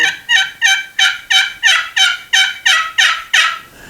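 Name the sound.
high-pitched Merriam turkey gobble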